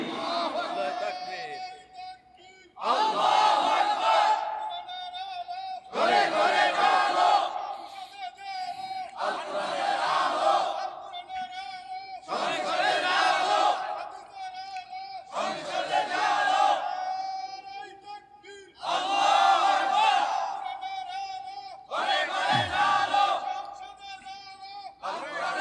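At a sermon gathering, a large crowd shouts "Allahu Akbar" in unison, about eight loud roaring bursts spaced roughly three seconds apart with short quiet gaps between them.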